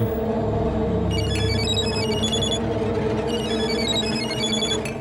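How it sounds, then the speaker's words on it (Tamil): A telephone bell rings repeatedly in bursts over steady background music in a Tamil TV serial scene, with the rings fairly loud and close. "போன் அடிக்குதா? அடிக்குது."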